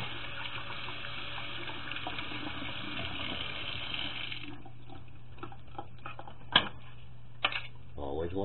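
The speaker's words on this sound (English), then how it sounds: "Wash my hands." A kitchen tap runs steadily while hands are washed beneath it, a continuous muffled water rush that fades after a few seconds, followed by a couple of sharp knocks, with a person talking over it.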